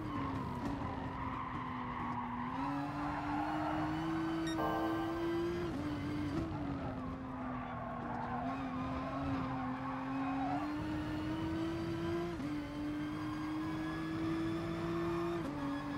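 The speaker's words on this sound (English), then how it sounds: "God, this GTR is so fast on the straights. Look at it go." A GTR race car in the GT Sport racing game roars down a straight, its engine note holding a steady high drone that rises through gear shifts, with tire squeal mixed in; no speech.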